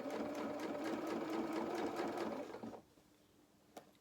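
Sewing machine stitching a shirt sleeve cuff, a quiet rapid mechanical chatter running steadily for a few seconds before stopping, followed by a faint click.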